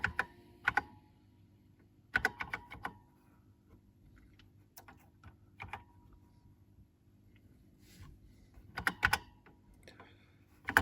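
Keystrokes on a Nokia MikroMikko 1 computer keyboard come in short clustered bursts separated by quiet pauses, sharp and close against a faint steady electronic hum.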